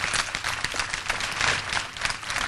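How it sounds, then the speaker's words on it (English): An audience applauding at a community meeting: a short, moderately faint patter of many hands clapping steadily throughout, with no talking over it. "You owe yourself a round of applause."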